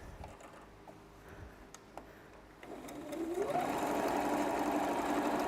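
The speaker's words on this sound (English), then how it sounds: "Sewing machine's not happy." A home sewing machine starts up partway through while bag pieces are stitched, its steady mechanical whir rising loud and continuous after a quieter stretch of faint clicks and handling noise.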